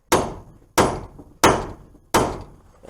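A big hammer strikes a chisel to drive out a seized hub assembly on a Dodge Caravan, four loud, evenly spaced metallic blows with ringing decay, alone with no talk.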